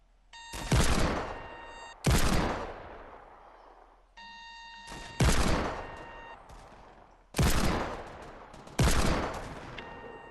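Gunfire in a video game: about six loud, sharp shots spaced a second or two apart, each followed by a long booming echo that fades before the next, with no voices.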